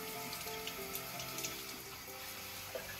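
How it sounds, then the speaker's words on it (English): Tap water runs steadily over sprouting microgreens during a kitchen rinse, a soft continuous splashing and trickling with no talk. "Time for another rinse."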